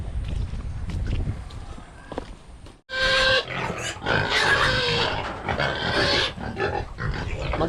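A native pig squeals and grunts loudly in repeated bursts as it is picked up, with scuffling and shuffling movement beforehand.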